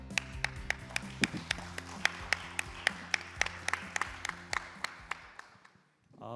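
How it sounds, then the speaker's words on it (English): Audience at a Korea–Singapore future mobility seminar clapping to welcome a panel discussion, a moderate round of applause with distinct individual claps that fades out after about six seconds. "Let's give them a round of applause as they start their panel discussion."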